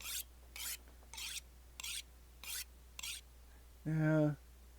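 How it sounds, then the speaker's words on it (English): A knife is sharpened in the survival video game The Long Dark: six evenly spaced rasping strokes of blade on stone, crisp and close, followed by a short rising tone-like chime. "One is knives. Sharpening a knife."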